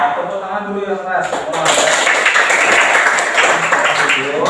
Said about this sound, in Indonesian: Tepuk tangan dulu yang keras.